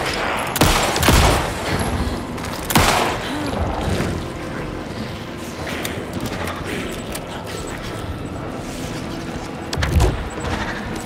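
Gunfire in the video game Alan Wake 2 during a boss fight, several sharp, loud shots spread over the stretch among rumbling game effects and noise.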